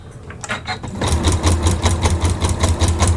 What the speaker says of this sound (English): So I'm just stitching my fabric